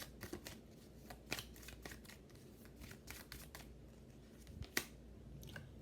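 Tarot cards are shuffled and drawn in a quiet room, giving faint soft riffles and a few sharper card snaps and slaps spaced across the stretch, with no voices.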